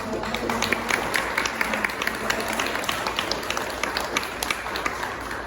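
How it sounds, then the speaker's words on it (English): An audience at an artist talk applauds for Sarah with a steady patter of many hands clapping, moderately loud and continuous throughout. "Let's give an applause to Sarah."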